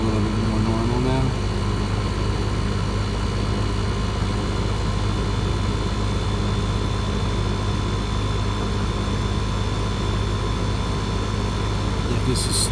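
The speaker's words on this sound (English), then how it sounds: "Compressor's starting to sound a little bit more normal now." An air conditioner compressor runs with a steady, loud low drone and broad hum during R-410A refrigerant charging on a small leak repair, continuous throughout with mechanical rumble layered on top.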